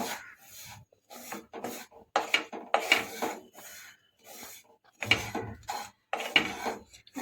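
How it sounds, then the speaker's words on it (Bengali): A spoon scrapes and clinks against a bowl while sugar is stirred into a semolina mixture, in irregular rubbing strokes with short pauses between bursts, fairly close and with no talking. "একটু ভালো করে মিশিয়ে নেব"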